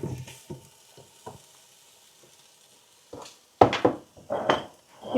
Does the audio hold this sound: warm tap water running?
no